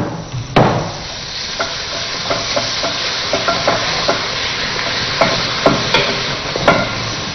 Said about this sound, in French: Je remue encore.